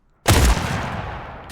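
Pistol shots in the Tactical Assault VR shooter, a sharp loud crack followed by a dense rapid burst and ringing tail, with a second report starting right at the end.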